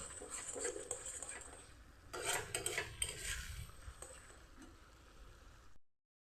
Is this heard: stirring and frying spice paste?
yes